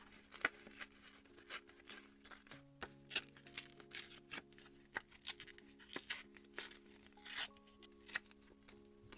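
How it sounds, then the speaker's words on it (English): Paper is torn by hand around a cutout for a K-pop binder cover, a series of short, close, crisp ripping and crinkling bursts in an irregular rhythm over a faint background tone. "I want to rip around this."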